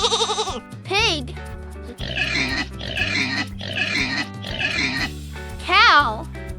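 A pig oinking and grunting in a run of rough, close calls, with a voice speaking briefly at the start and end over soft background music.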